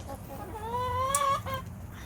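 A chicken lets out a rising, drawn-out cluck over a low background rumble, close by and moderately quiet.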